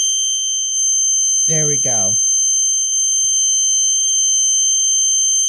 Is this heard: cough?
no